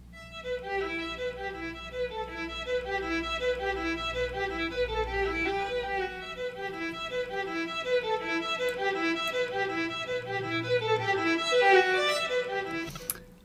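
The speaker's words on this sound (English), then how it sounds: "I have the solo violin kind of doing like an arpeggio," A solo violin from the Embertone Friedlander virtual instrument plays a fast, continuous arpeggio figure, steady and fairly loud, with no talking.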